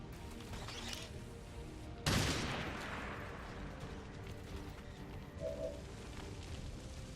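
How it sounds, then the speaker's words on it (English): A shredder gun fires in XCOM 2: one sudden, loud blast with a long decaying roar that fades into steady, low background ambience. "Firing the shredder gun gives you a follow-up shot"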